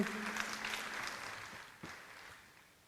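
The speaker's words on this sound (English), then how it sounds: "Let's give her a round of applause, please." An audience at an Indian Arrival celebration claps for the first-place art prize winner, the applause fading gradually as it goes on, with a few sharper claps and faint voices mixed in.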